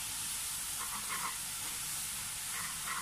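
Soy sauce hits melted sugar in a pan for Chinese-style red-braised pork belly, giving a steady, soft sizzle and hiss with faint stirring scrapes.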